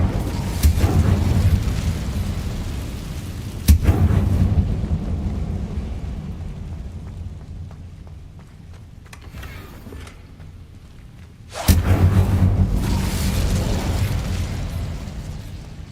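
A fire spell blast in a Harry Potter video game: sharp bursts erupt into a long, loud roaring rumble that fades to a low hiss before a second heavy blast flares up again near the end.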